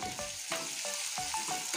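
Garlic and onion frying in a pan with salt added, a close, steady sizzle broken by regular stirring scrapes about every third of a second.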